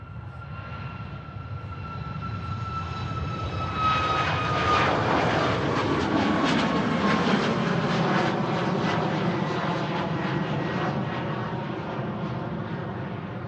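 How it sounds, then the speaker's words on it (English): A Ryanair Boeing 737 with LEAP-1B engines at Manchester Airport, loud and close, its steady engine whistle sliding downward over a broad jet roar that swells and holds throughout. "The whistles of the Leap 1B engines."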